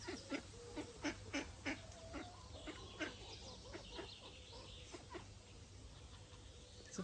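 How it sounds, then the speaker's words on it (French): Ducklings and their mother duck quack and peep softly in a rapid cluster of short calls, with tiny high cheeps mixed in over a faint background hum. "Ça y est, mes bébés canards sont nés."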